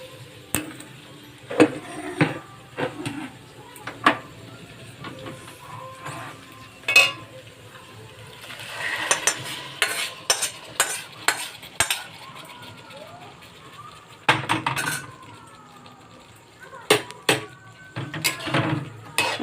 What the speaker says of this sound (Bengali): ভেন্ডি পেঁয়াজগুলো ভালো ভাজা হয়ে গেছে, ভেন্ডিটাও ভাজা হয়ে গেছে